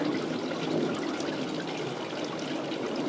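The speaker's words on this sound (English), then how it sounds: "she's showering in the fountain" Water trickles steadily in a garden fountain where a hummingbird bathes, a soft continuous splashing babble heard close and alone.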